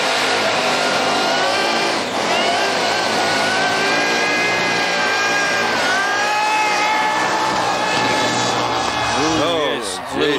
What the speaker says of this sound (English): it's a burnout competition. It means making smoke.